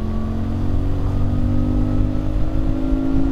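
A CFMoto 450MT motorcycle accelerates steadily from 80 to 100 in sixth gear, with a continuous, loud, even engine drone and a slowly rising pitch, blended with wind noise from a rider's perspective.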